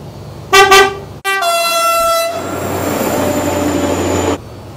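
A train horn blasts loudly and steadily for a few seconds after two short harmonic toots, with a rumbling low drone underneath.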